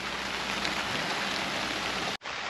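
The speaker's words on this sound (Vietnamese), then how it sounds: "Vậy là trời mưa rồi nha mọi người." Rain falling outdoors near a pond in the countryside, a loud, steady, dense hiss of drops that cuts out briefly near the end and then resumes, with no talking.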